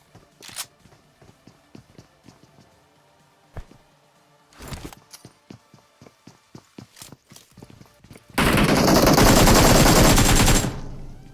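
Gunfire in the mobile battle game BGMI, with scattered single shots and quick bursts from an AKM and SCAR rifle, building to a dense, loud stretch of continuous automatic fire near the end.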